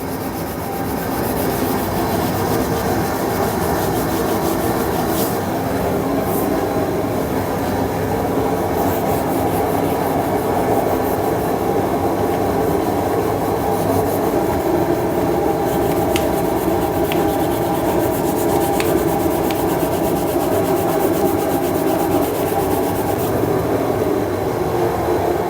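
Sandpaper scrubbing the surface of a wooden subwoofer box, a steady continuous rasping friction that runs loud and unbroken throughout with no talking.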